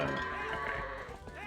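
Goats bleating in the video game Twilight Princess HD, a short wavering call over game background sound at moderate level.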